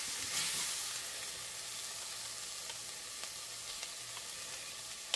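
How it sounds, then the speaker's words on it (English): Garlic sizzling among softened vegetables in a Le Creuset sauteuse soup pot, a steady close frying hiss with faint stirring clicks and no talk. "I'm going to add my garlic because you see my vegetables have softened a bit"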